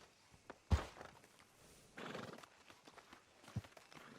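In the Red Dead Redemption 2 game, a horse snorts and shifts with scattered hoof clops, faint overall with a few louder thuds and a breathy whinny-like burst in the middle.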